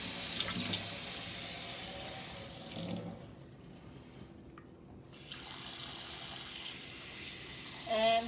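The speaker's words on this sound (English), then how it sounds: "Okay, I'll bring the faucet over." Cold water runs from a kitchen faucet while adobo is being prepared, a steady rushing splash that dips quieter for a couple of seconds midway before resuming at full flow.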